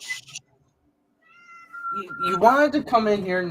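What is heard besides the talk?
cat meowing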